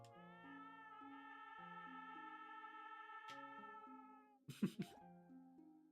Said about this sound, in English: Cat's over here, look.